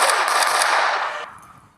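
A burst of rapid automatic gunfire striking a metal cabinet, loud and dense with a sharp metallic rattle, then tapering off into a fading ring and near silence.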